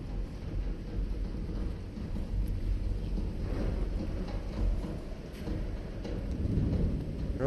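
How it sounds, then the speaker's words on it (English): A thunderstorm in the video game The Invincible gives a low continuous rumble of thunder under a soft wash of rain, moderately loud and steady across the clip, with no talking. "Really nice if this storm would go away."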